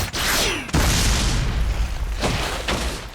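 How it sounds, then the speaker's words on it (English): A video game explosion from One Piece: Pirate Warriors, a loud booming blast that opens with a sweeping whoosh, then a heavy sustained rumble with further bursts near the end. "Look at that explosion"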